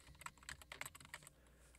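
Quick bursts of keystrokes on a computer keyboard as a web address is typed into a browser, a close, light clatter of about a dozen taps that trails off into quiet.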